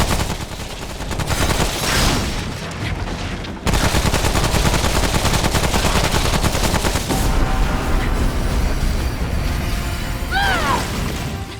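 Gunfire in the video game Remnant from the Ashes, with dense rapid bursts of loud shots and crashing impacts that keep going almost without a break, plus a short mechanical chirp near the end.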